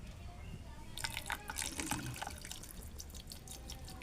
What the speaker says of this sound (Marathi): पाणी ॲड करणार आहे